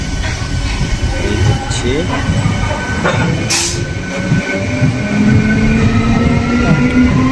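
An ICF local train pulls away from a station platform, its low rumble and rail noise building steadily, with a brief high hiss partway through and a voice speaking over it.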